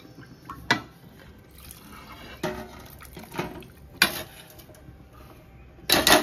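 Tamarind juice is poured into a cooking pot, heard as a quiet trickle broken by several sharp splashes and clinks against the vessel, spaced irregularly, with a busier burst at the end.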